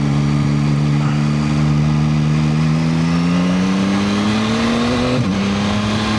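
A 2025 Yamaha MT-09 SP motorcycle engine pulls steadily from the rider's position, pitch rising smoothly under acceleration, then a brief dip as it shifts up and keeps climbing, loud and close with wind noise.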